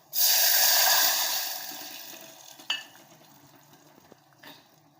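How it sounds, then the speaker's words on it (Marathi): A bowl of water pours into semolina dough, a loud rushing splash that fades over a couple of seconds, then a few light clinks of a bowl. "मी एक वाटी पाणी ओतलेलं आहे त्यात"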